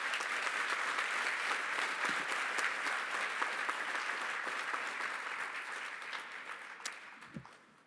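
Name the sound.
audience applause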